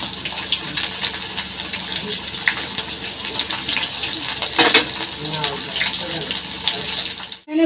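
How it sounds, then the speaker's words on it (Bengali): Water running steadily from a kitchen tap into a pot being filled for cooking rice, with a close, continuous splashing hiss and some small clatter as the pot is handled, and it stops abruptly at the end. "এখানে ভাতের জল বসিয়ে দিলাম, এই যে চাল ধুয়ে নিয়েছিলাম"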